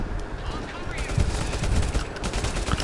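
Enemies on a bridge in the VR shooter Bravo Team fire at the player. Rapid, crackling gunfire bursts overlap densely and continuously, loud and close, over the game's background sound.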